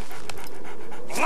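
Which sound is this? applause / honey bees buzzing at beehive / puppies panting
puppies panting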